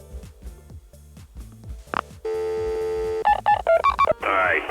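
Rapid phone keypad tones from a retro hot dog stand video game, first short clicky presses, then a sustained tone followed by a quick run of distinct dialing beeps, loud and clear.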